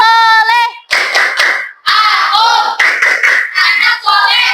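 A classroom group doing the Tepuk Anak Soleh clapping chant during an ice-breaking activity: a sung opening followed by bursts of rhythmic clapping mixed with chanting voices, loud and close, with brief pauses between phrases.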